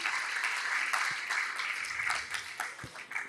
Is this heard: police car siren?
no